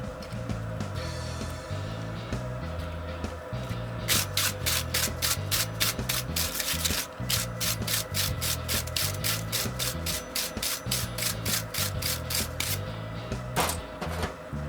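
Scale and slag being cleaned off a forged steel nose punch, once a spring, in a steady run of close, rhythmic scraping strokes over a low background hum, with a short pause midway.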